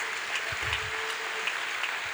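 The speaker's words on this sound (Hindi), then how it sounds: "मेरा दिल करदा है यीशु नासरी दी इज्जत में जोरदार तालियां।" Applause from a church congregation honouring Jesus, a broad steady clatter of clapping at moderate distance filling a couple of seconds with no talking over it.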